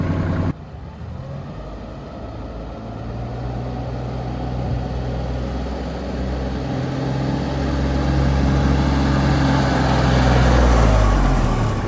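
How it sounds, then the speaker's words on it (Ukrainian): A small Kubota KT 24 tractor engine runs at full speed, a steady low drone with a rising, strained hum that grows gradually louder and closer over the drive, with no talking. "демонструємо, з якою швидкістю їде тракторець"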